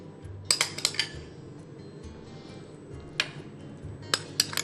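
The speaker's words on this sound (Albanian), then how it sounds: "Do ta marrë dhe vendos direkte në furrë." Metal baking tray of chicken fillets marinated in yogurt and spices slid into an oven, a series of close metallic clinks and clanks in short bursts, moderately loud, no talking.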